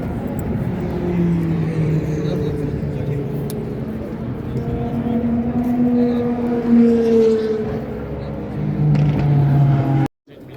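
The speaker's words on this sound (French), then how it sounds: "Magnifique Lamborghini Huracan Evo. Wow, elle est incroyable." A Lamborghini Huracan Evo race car passes at Spa during a WEC endurance event, its engine note rising and falling as it sweeps by. The sound is loud and sustained, fading near the end, and voices talk over it.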